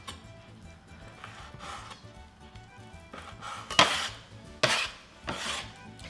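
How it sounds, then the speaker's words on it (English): A knife chopping four slices of extra thick bacon into half-inch pieces on a board, soft cuts at first, then several louder, sharper strikes near the end, close and quiet with no talking. "Start by cutting the 4 slices of extra thick bacon into 1/2-inch pieces."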